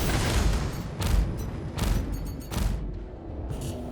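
Missiles launching and exploding in the space game Star Citizen, a rapid series of loud booming blasts with brief pauses between bursts, close and heavy, with no talk over them.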